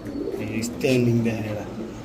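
A female blood-red checker racer pigeon gives low, rolling coos up close, heard under ongoing background voices.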